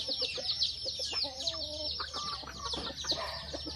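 Hungry backyard chickens keep up a busy, uneven chatter of clucks and short squawks, some nearer and some farther off, over a faint low rumble.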